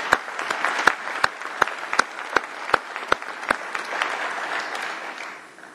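An audience at a conference general session applauds staff, with distinct sharp claps standing out over a continuous patter of clapping that fades toward the end.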